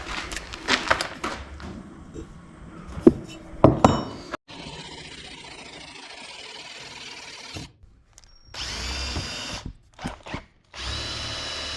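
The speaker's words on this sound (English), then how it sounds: "this drill is stuck in hammer mode" A DeWalt drill stuck in hammer mode gives a harsh, rattling whir in several bursts, with scraping and knocks between them and a short stretch of quiet near the middle.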